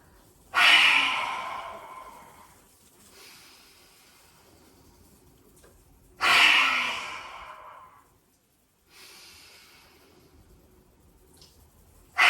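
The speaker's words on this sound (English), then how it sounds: "as you breathe out, poking your tongue out as far as you can, stretching the chest forwards. So exhale out any air you have in the body." Forceful yoga exhale with the tongue stuck far out and the chest stretched forward, two loud breathy rushes about six seconds apart, each fading over a couple of seconds, with a softer breath between.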